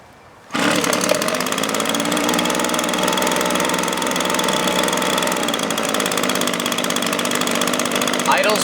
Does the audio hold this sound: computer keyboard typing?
no